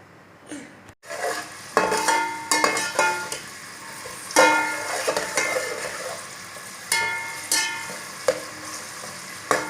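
Chopped onions fry in half a bowl of oil as they turn light brown, with a steady sizzle interrupted by repeated scrapes and clinks of a stirring spoon against the pan.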